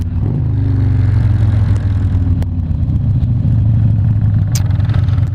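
Harley-Davidson motorcycle engine, a loud, close, lumpy idle and rev with scattered sharp pops and crackles breaking through the steady throb.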